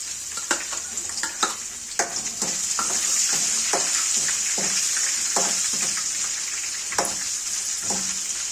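Chopped onion pieces fry in a pan for mint rice, giving a loud, continuous hiss with sharp clicks and scrapes from repeated stirring.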